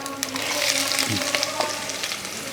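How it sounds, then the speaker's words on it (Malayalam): Chopped garlic, ginger and green chillies fry in hot coconut oil for a Kerala-style fish roast, giving a loud, steady sizzle with small crackles and pops close by throughout. "എണ്ണ ചൂടായതിന് ശേഷം നമുക്ക് കുറച്ച് ഒരു 10-15 വെളുത്തുള്ളി, ഒരു കഷ്ണം ഇഞ്ചി ചെറുതായിട്ടെല്ലാം അരിഞ്ഞ് വെച്ചിരിക്കും, 2 പച്ചമുളക് അങ്ങോട്ട് ഇട്ട് കൊടുക്കുക"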